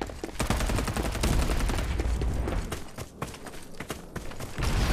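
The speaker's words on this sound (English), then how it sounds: "Time for some artillery. Exchanging fire." Sustained bursts of automatic gunfire and heavy artillery-style blasts from the Farlight 84 battle royale game, loud and dense throughout with rapid repeated shots and a brief lull near the end.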